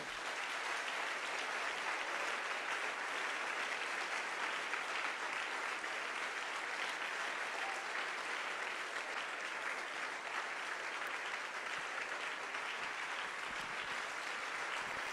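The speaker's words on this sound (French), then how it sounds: "Est-ce qu'on peut acclamer très fort le Seigneur?" A church congregation applauds and cheers for the Lord at the close of a Sunday service, a steady dense wash of clapping held at an even level throughout, fairly distant and without speech over it.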